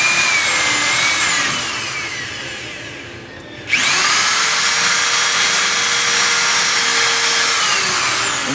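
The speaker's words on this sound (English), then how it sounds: "Okay, so we're going to go ahead and start drilling." A power drill bores into a broken bolt under a Land Cruiser dash, a loud continuous whine that dips and slows briefly, then surges back to full speed and runs steadily to the end.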